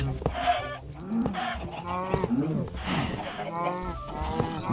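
Cattle lowing in the Minecraft minigame: several drawn-out, slightly nasal moos in close succession, mixed with chicken-like clucks and busy game sounds, fairly loud and steady throughout.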